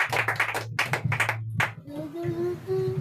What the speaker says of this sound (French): Acclamons encore pour la servante de Dieu